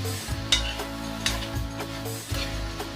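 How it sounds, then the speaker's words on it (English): Ackee and saltfish stirred in a wok give a soft, steady sizzle broken by several scraping strokes of a utensil against the pan, close and fairly quiet. "And we just need to stir that around."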